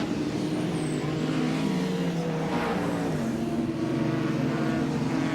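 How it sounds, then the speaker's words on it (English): Touring cars race side by side at Lakeside circuit in the 1992 Australian Touring Car Championship, a steady loud engine drone with shifting pitch as the cars jostle for position, continuous throughout. "Longhurst side by side, door handle to door handle here with John Bow, and passes him on the inside"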